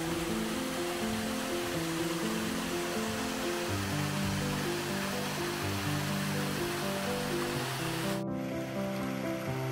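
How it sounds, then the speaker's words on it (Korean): Mountain valley stream at Jeolgol gorge in Cheongsong, a steady, loud rush of flowing water with no voices, continuing unbroken throughout. "그럼 잠시 계곡 소리에 귀를 양보해 볼까요?"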